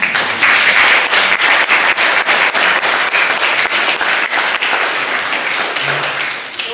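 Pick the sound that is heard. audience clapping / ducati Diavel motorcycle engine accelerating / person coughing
audience clapping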